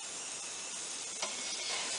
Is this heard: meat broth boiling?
yes